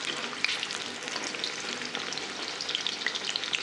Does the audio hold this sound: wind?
no